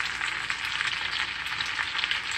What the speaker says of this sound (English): Just stir them, guys, to make sure everything are mixed.